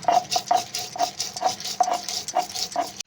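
Green chillies, whole cumin, coriander seeds and black peppercorns ground on a shil grinding stone, giving a close, rhythmic scraping and knocking repeated in regular strokes.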